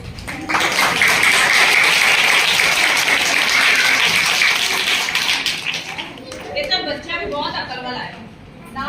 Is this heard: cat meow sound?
no